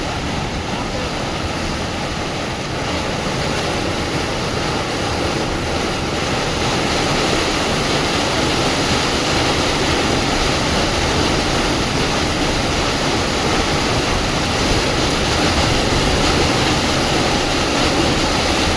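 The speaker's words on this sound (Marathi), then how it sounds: "आणि किती फोर्स आहे नदीला तुम्ही पाहू शकता. पाण्याला पण खूप फोर्स आहे मित्रांनो." A fast-flowing river in flood with a strong current gives a loud, unbroken roar of rushing water, close and steady throughout.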